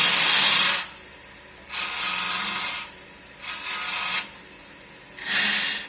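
A wood lathe turning knobs from abrasive teak hardwood with carbide-tipped tools gives four bursts of loud hissing, rasping cuts with short quiet pauses between them, close and without talk.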